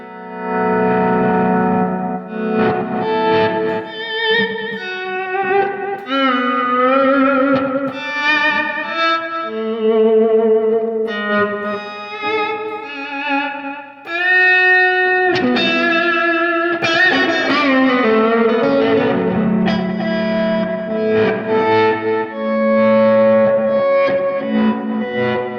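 Electric guitar played through an Evans Nova 400 tape echo set toward the bass side, with clean, glassy notes and chords trailing warm, distorted repeats and swelling reverb-like tails, continuous and close with no speech.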